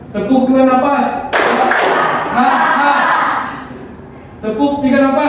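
A group of schoolchildren in a classroom claps the 'tepuk dua napas' rhythm pattern: a loud burst of hand claps lasting about three seconds, with a speaking voice before and after.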